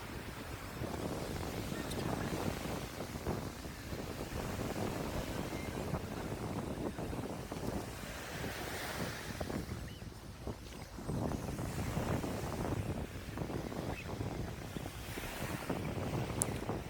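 Gulf Shores beach in Alabama with steady surf and gusty wind, the waves washing in continuously while wind buffets the microphone throughout.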